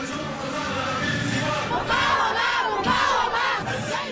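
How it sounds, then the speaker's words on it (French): Large crowd at a Hezbollah rally chanting "résistance" in loud, surging rhythmic shouts, the chant swelling in repeated waves across a dense roar of many voices. "Résistance, résistance, crie la foule"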